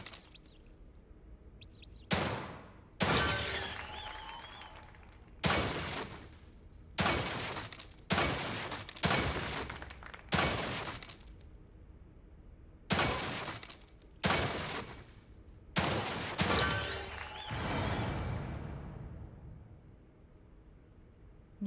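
Gunfire from a firearm in the video game The Evil Within 2: about a dozen loud, close, sharp shots at uneven intervals, some in quick pairs, each with a short decaying tail and no talking between.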